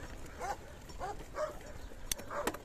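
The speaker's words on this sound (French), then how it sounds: "vous entendez les chiens de la casse?" Dogs at a scrapyard in Portugal, heard at a distance and fairly faint, giving a few spaced barks and whimpering yelps over steady outdoor background noise.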